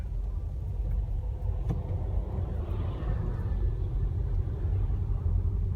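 A car stopped at a red light on a road in Japan, its engine giving a low, steady idling rumble with faint traffic noise around it.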